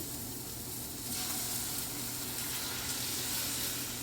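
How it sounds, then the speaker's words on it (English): Whisked eggs and milk poured into a hot cast iron pan on low heat hiss with a steady, close sizzle that swells after the first second and holds. "I'm going to add this in, and the eggs are going to start cooking right away."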